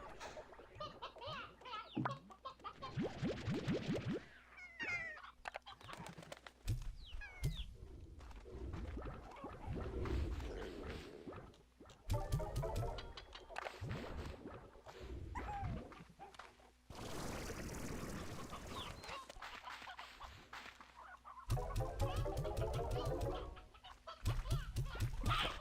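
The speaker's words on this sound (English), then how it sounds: "Still got roosters in here, huh?" Roosters in the Slime Rancher 2 video game cluck and crow in repeated bursts, close and fairly loud, with scattered squawks and chatter across the scene.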